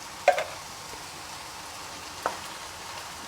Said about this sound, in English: Just give that a quick little stir.